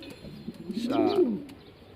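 A male pigeon at a loft coos once in a rising, throaty, drawn-out call about half a second long, close and clear against a quiet background, with a faint voice nearby.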